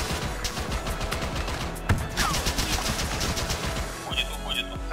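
Rapid bursts of automatic gunfire in the military video game ArmA 3, dense repeated shots cracking for the whole stretch, with voices talking faintly underneath.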